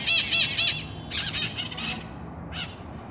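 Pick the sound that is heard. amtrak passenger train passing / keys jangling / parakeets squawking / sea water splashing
parakeets squawking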